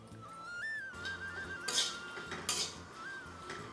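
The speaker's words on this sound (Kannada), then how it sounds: "ಈಗ ಇದನ್ನು ಚೌಳಿಕಾಯಿ ಹುರಿಯನ್ರಿ." Cluster beans being dry-roasted in a pan on the stove: close, irregular clattering and scraping against the metal pan, with a couple of sharper clanks and a thin tonal ring running beneath.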